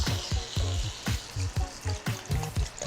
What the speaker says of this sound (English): this is gonna go on medium heat. We're gonna toss the chicken in.